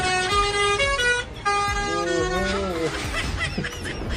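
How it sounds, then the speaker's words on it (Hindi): A truck horn plays a rapid musical tune, loud tonal blasts in a stepping pattern with brief gaps, then bending tones over street noise, as mischievous children honk it playfully. "यहाँ नटखट बच्चों ने ट्रक के हॉर्न पर ही ताता दिन्ना करना शुरू कर दिया।"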